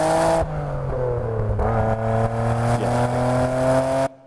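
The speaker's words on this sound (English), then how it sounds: "I had to put engine sounds in it." A car engine revs loudly and steadily, its pitch dipping and climbing in several surges before cutting off abruptly near the end.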